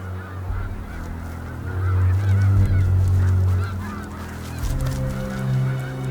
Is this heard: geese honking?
yes